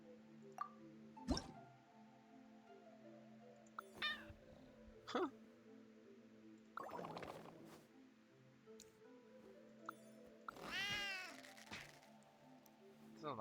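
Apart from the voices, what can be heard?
cat meowing in a video game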